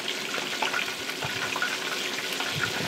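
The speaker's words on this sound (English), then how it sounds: "we're gonna be deep frying these pieces of chicken for about 15 minutes" Steady bubbling sizzle of chicken pieces deep frying in hot oil, continuous and close, with faint crackles and pops throughout.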